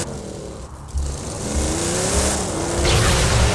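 A car engine in the video game Borderlands 2 roars steadily as the vehicle drives, rising a little in pitch and loudness toward the end, with a gritty, close-up mechanical tone.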